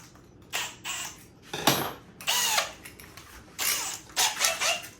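A 1-1/8 inch hole saw cuts into a curved plastic garbage can in several short, close bursts of whining drill noise with brief pauses between.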